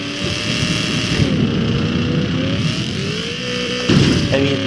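A car engine in Garry's Mod revs and holds a high droning pitch that rises and dips, loud and close, with a sharper surge of revving near the end; no talk.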